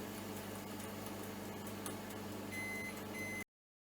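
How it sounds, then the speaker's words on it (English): Kitchen oven timer being set for 20 minutes, a few short electronic beeps near the end as buttons are pressed, faint over a quiet background hum. "Hold the first button and press that till it reaches 20 in that corner there."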